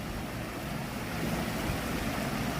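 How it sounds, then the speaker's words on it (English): The waterfall at Lincoln Park in Chicago gives a continuous close, even roar of splashing water with some wind noise. "Here's the waterfall."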